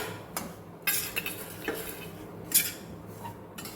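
Spoon scraping and clinking in a pan as raisins are stirred into a gugra mawa mixture, with soft irregular taps and scrapes, faint and close.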